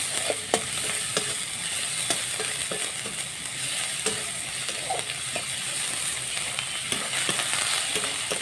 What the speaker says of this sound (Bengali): রসুনটাকে প্রথমে আগে একটু ভালো করে ভেজে নেব।